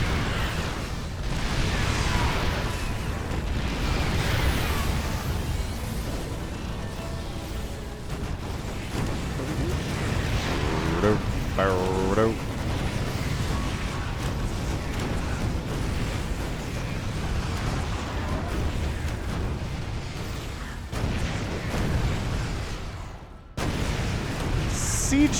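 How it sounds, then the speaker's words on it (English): In a StarCraft 2 match, siege tanks fire amid a chaotic battle, with heavy booming blasts and rumbling explosions layered over continuous combat noise for the whole stretch, while a commentator talks over it. "Siege tank stutter stepping."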